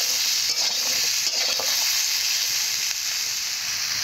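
Mrigal fish pieces frying in a hot pan make a loud, continuous hiss and sizzle, with a few soft stirring clicks near the start and no talking.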